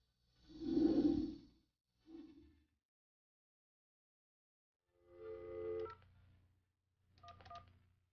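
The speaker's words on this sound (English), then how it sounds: "AT&T video phone." An AT&T video phone sounds its dialing tones, two short bursts of tones followed after a pause by two more, clear and close in an otherwise quiet room.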